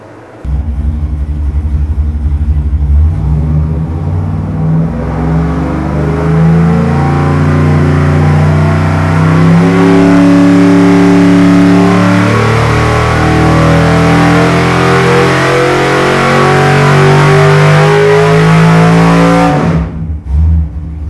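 A small-block engine on an LS1 high output tune revs steadily and loudly for about twenty seconds, its pitch rising and wavering unevenly before cutting off sharply near the end.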